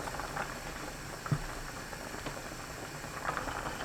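Soybean sprout porridge simmering in an uncovered pot, a faint steady bubbling and low rumble with an occasional soft pop, quiet and close, no voices.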